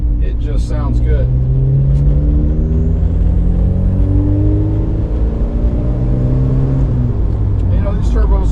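A 1987 Porsche 944 Turbo drives with a steady, loud engine drone that rises and falls in pitch as it accelerates and shifts, lasting throughout with no gaps.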